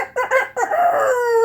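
A rooster crows as a sound effect, loud and close, with two short opening calls and then a long drawn-out final note.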